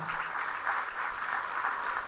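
A church congregation applauds in a sustained wash of clapping, steady and moderately loud throughout, with no speech over it.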